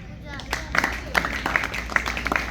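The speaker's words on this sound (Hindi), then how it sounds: "भाई तालियां बजाओ इसके लिए, बहुत बढ़िया एक्ट था इसका, क्लासिकल।" School audience clapping for a classical Mahabharata act at a house activities event, scattered applause under someone speaking over a microphone.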